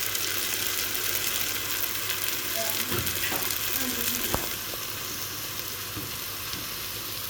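Chopped tomatoes hitting a hot pan with onions while cooking okra stew, a continuous close sizzle and crackle with a few stirring scrapes and clicks partway through.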